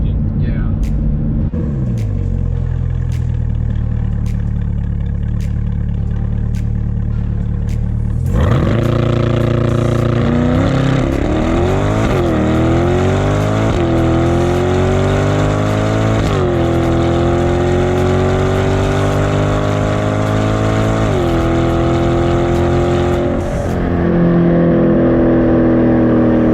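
A 2020 C8 Corvette engine heard from inside the car while driving, a steady drone that swells into hard acceleration with rising revs through several gear changes, with people talking over it.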